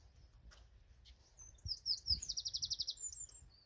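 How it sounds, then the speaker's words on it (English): Small birds chirping while hidden in a palace garden, a faint high twittering that builds into a quick run of repeated chirps, with soft low background rumble beneath. "there's birdies in there hiding"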